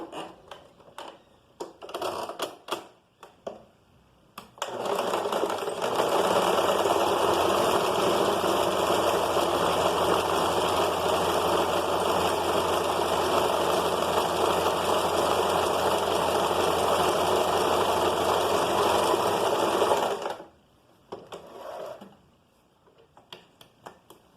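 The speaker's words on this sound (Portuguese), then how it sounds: "vou aqui fazer um chuleado na borda" A sewing machine runs an overcast stitch along a fabric edge in one continuous, steady, fairly close burst of about fifteen seconds, with a few short clicks and taps before and after.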